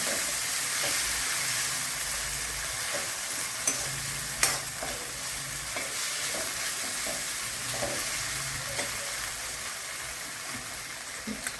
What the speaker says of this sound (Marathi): आता आपण तुपामध्ये शाबूस तांदूळ टाकणार आहे दोन चमचे तुपामध्ये छान बाजून घेणार आहे